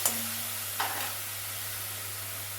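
Tomato puree sizzling with garlic paste in a hot pan, a steady close hiss with a brief stirring scrape, no voices.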